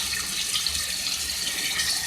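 Water poured steadily into a pan of potatoes and cauliflower, a continuous close splashing rush with no pause.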